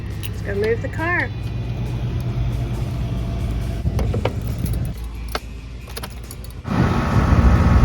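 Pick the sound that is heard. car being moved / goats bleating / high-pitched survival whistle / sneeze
car being moved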